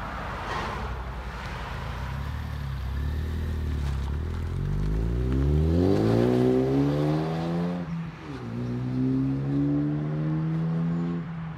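A Ford Focus ST 2.0 turbo with a resonator delete on a 3-inch pipe and a custom muffler delete revs up, its exhaust note climbing steadily, dipping briefly, then holding a loud, raspy high drone. No one speaks.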